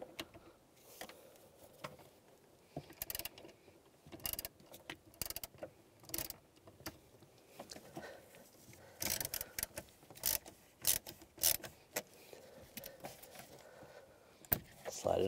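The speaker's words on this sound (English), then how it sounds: "Disconnect the negative terminal, use a 10mm socket." Ratcheting socket wrench, 10mm, working the negative battery terminal on a 2006-2011 Cadillac DTS: quiet, repeated ratchet clicks and mechanical handling in bursts across the span, close and faint.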